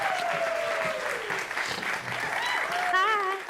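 An audience welcomes a guest onto a stage with warm, sustained applause, while a few voices and brief whistle-like tones rise above the clapping.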